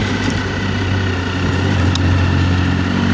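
A motorcycle cruising on an open road, a loud steady engine drone with constant wind rush and no change in pace, heard close from the rider's position without talk.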